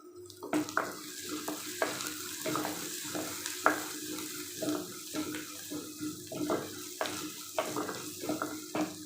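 Onions sautéing with asafoetida in a pan for kara kulambu, with a steady soft sizzle broken by regular scraping stirs of a spatula, close and fairly quiet, with no talk.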